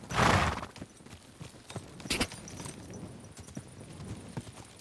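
Horse hooves clip-clopping in a medieval open-world game, with a loud snort or whinny at the start and then uneven, scattered hoof thuds at moderate distance.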